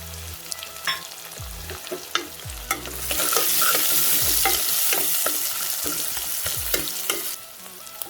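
Onion, garlic and vadagam sautéing in oil for drumstick and cowpea kuzhambu, a dense close sizzle swelling louder midway, with intermittent clinks and scrapes of a spoon stirring the pan and no voices.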